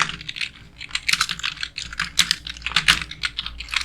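Quick, irregular clatter of computer keyboard keys being typed in WordPad, close and steady for several seconds with no voice over it.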